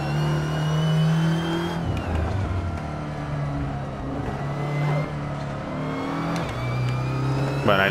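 An Audi TT Cup race car in Assetto Corsa at the Montmeló circuit accelerates through the gears, its engine revving loudly with rising and falling tones and shifts, continuous and close-up with no speech.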